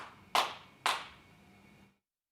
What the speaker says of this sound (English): The clapping makes it, right?